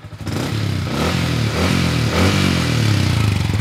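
A Yamaha Exciter 155 VVA motorcycle on its current exhaust is revved up close, the engine note climbing and surging loudly in repeated throttle blips with a rattly edge.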